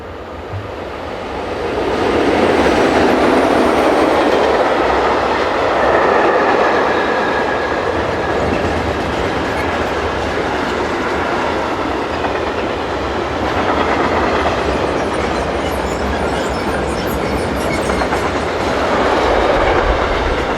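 Two locomotives, numbers 420-186 and 620-088, haul a train westward in a double-headed run, a steady loud rumble of wheels and rail clatter building in after a quiet start and rolling on continuously.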